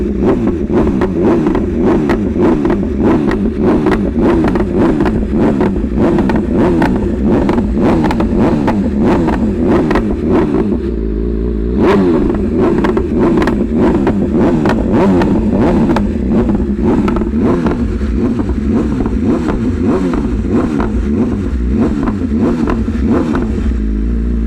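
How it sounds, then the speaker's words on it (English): A BMW M 1000 RR superbike with a full titanium Akrapovic-style exhaust revs hard and repeatedly, a loud, close, raspy engine note rising and falling in quick blips throughout. "I love the sound of that Aero full titanium exhaust."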